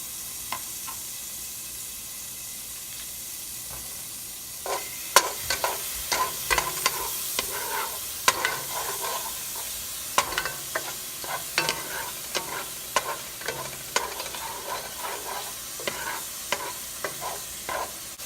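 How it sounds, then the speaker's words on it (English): Garlic frying in a pan for shrimp scampi: first a quiet, steady sizzle, then from about five seconds frequent spatula scrapes and taps over the hiss, close and moderately loud. "we're gonna go ahead and put the garlic in here"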